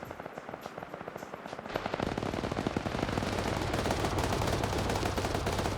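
Rapid automatic gunfire rips through a military shooter game during a three-way PvP match, sparse distant shots giving way after two seconds to dense, loud, continuous bursts from several weapons firing at once.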